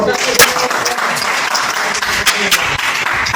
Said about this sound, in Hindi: तो ताली बजा दो